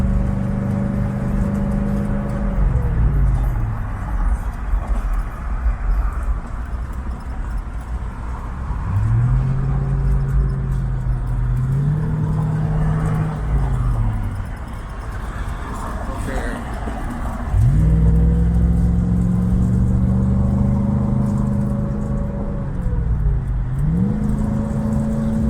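A Foxbody Mustang with an AOD automatic transmission accelerates up to cruising speed, its engine rising and dropping through several shifts under steady road noise, with a voice talking over it.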